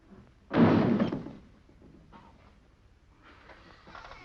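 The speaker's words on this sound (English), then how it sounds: "And don't slam the door as you go out." A single heavy door slam lands near the start, loud and close, followed by quieter shuffling and rustling.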